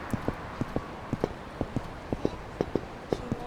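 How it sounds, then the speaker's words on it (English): Loud, crisp footsteps of the player character in the video game Yakuza 3, a steady walking rhythm of hard heel strikes, about two per half second, close and prominent over a quiet background. "The footstep noises are actually so loud."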